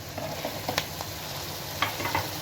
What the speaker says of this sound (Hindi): और अब अच्छे से भून लेंगे इसको